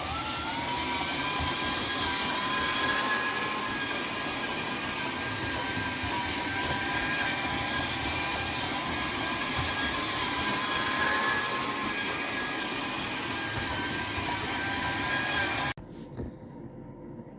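Bachmann Big Hauler G scale model locomotive running at one of its lowest speeds, giving a steady whirring motor hum with faint rail rumble for about sixteen seconds before cutting off abruptly into quieter room noise.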